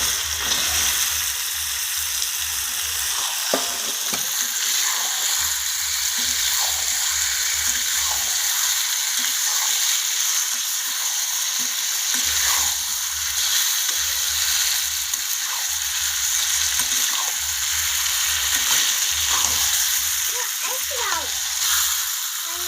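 Chicken pieces frying and being stirred in a pan with tomato, onion, ginger and garlic, a steady sizzle running throughout with scattered scraping stir strokes, close and fairly loud.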